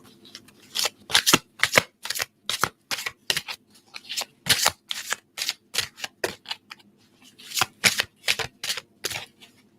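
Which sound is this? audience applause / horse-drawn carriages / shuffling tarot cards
shuffling tarot cards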